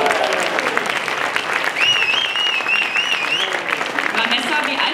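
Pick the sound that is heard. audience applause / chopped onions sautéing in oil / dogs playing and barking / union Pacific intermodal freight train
audience applause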